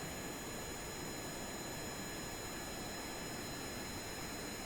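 Juno jet engine in the Kerbal Space Program game running with an alternator failure, a faint, steady whine and hiss with fixed high tones, unbroken throughout.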